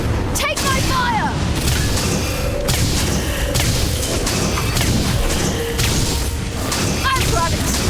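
Fire explosion attacks in Dragon's Dogma, with deep booming blasts and crackling bursts layered over constant loud battle noise, joined by a few brief high vocal cries.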